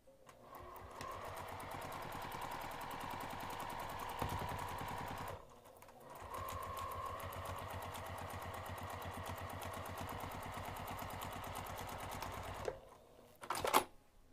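A sewing machine stitches a seam in two long, steady runs of rapid mechanical chatter, broken by a brief pause, then a short burst of handling noise at the end.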